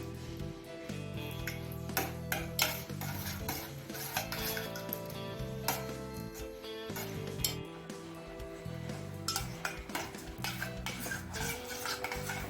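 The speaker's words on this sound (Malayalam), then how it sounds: "ഇനി നമുക്കിത് അടുപ്പത്ത് വെച്ചിട്ട് നല്ലതുപോലെ മിക്സ് ചെയ്തിട്ട് ഉരുക്കിയെടുക്കാം" Jaggery and jackfruit being stirred in a pan on the stove, a rhythmic run of scraping and clinking from a metal spoon against the pan, close and repeated throughout, with faint background music.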